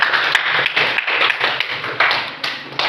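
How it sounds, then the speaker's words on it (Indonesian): A group applauds, producing a steady wash of quick, overlapping claps with a few sharper individual hits standing out, lasting just under three seconds at moderate loudness. "Oke, kita berikan aplaus."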